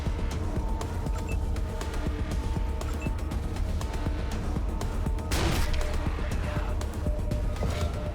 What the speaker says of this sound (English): then we do another shotgun shot